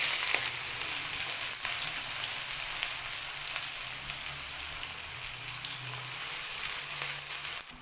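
Onions hiss and crackle steadily in about half a cup of hot oil in a kadhai. The sizzle is dense and continuous, close and loud throughout, with no talking.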